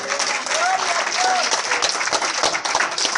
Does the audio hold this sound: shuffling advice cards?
no